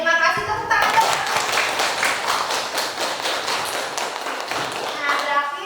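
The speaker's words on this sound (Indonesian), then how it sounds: "Oke, terima kasih, tepuk tangan dong" A classroom of students breaks into applause, a full wash of many hands clapping that rises abruptly, holds steady for several seconds, then fades as a voice returns at the end.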